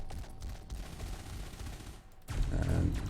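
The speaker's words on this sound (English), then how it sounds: "we've got multi-cannons on the side here" Ship-mounted multi-cannons in a space game fire in a steady rapid rattle, fairly quiet and distant, then swell louder and denser in the final second.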